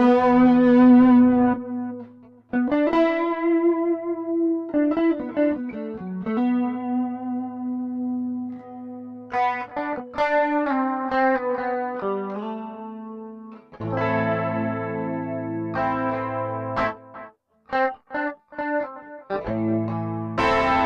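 Electric guitar played through Zoom G1Four multi-effects patches with delay and tape echo, bright sustained notes and chords ringing out with repeating echoes, phrases stopping and restarting across the passage, no voices.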